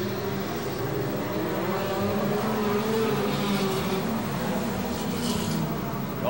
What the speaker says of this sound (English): Tony Stewart down the backstretch is your leader